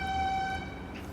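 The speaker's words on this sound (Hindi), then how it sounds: "सॉरी रोड हॉर्न की वजह से" A road vehicle horn sounds as a steady sustained honk with strong harmonic tones for about half a second, then fades into background traffic noise.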